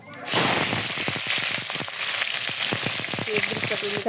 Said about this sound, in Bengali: পেঁয়াজ বেরেস্তা করা হয়ে গেছে